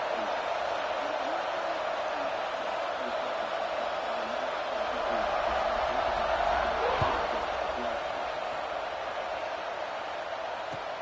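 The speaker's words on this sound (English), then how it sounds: "this crowd is buzzing after that last score" Steady crowd roar fills a college football stadium during a South Carolina versus Clemson game, a continuous broad buzz that swells slightly midway and holds loud throughout without a break.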